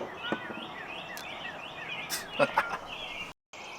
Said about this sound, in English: Love the sound of these birds.